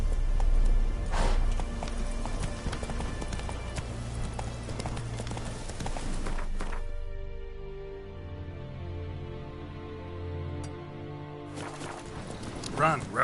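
Roach the horse gallops in The Witcher 3 with rapid, rhythmic hoofbeats, joined by game music and voices, then the hoofbeats slow and thin out before the galloping picks up again near the end.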